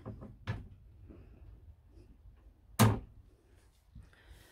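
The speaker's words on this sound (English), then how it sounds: "We have a kitchen cupboard door." Kitchen cupboard door in a van build worked open and shut, with a few soft knocks and one sharp closing thunk.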